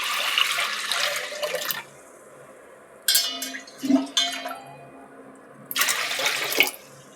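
Kitchen tap water runs in three separate bursts during preparation of drumstick dal, each a loud rushing splash with quiet pauses between.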